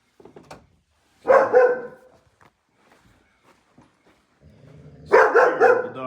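Dogs bark in two short, loud bursts a few seconds apart inside a house, with faint footsteps and small noises in between.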